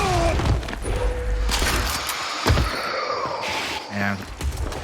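Grenade explosions in the video game Gears of War during a pro league match, several booming blasts and thuds mixed with gunfire, with a caster talking over the action.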